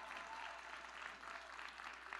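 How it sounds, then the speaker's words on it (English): An audience at a charity gala applauding, with steady, dense clapping heard from a distance at a low level. "Can we please give them a major round of applause?"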